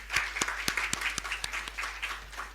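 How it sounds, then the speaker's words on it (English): A short, sparse round of applause at a conference, a handful of distinct hand claps spaced irregularly over a couple of seconds, fairly quiet and somewhat distant in a large room. "can we have a round of applause for all mothers across the globe?"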